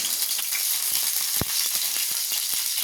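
Fennel seeds crackle in hot oil with dried chillies for a Tamil chicken fry, giving a steady, close sizzling hiss with scattered small pops and one sharper clatter partway through.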